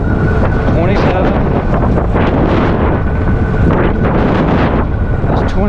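Mokwheel Basalt electric bike running on thumb throttle at about 27 to 28 mph: loud, continuous, buffeting wind roar across the microphone throughout.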